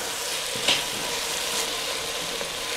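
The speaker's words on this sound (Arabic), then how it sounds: "نشوح البصل كويس قوي في الزيت" Chopped onion sautéing in oil, a steady close hiss and sizzle with a few light stirring scrapes, no talk.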